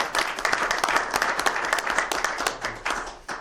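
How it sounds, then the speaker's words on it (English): A crowd at a summer community event in Dunkirk, New York claps in a lively, uneven burst of applause that stays fairly steady for a few seconds, with no talking over it. "round of applause here for Debbie"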